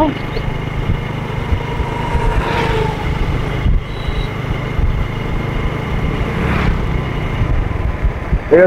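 Motorcycles run along a road through a tea garden in Habiganj, Sylhet, giving a steady engine drone with swells as bikes pass nearby, mixed with outdoor background noise.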